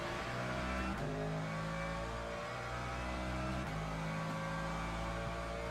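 An LMP prototype race car engine in Le Mans Ultimate drones and revs steadily at high pitch, with two sharp shifts or lifts breaking the tone, heard continuously and close with no talk over it.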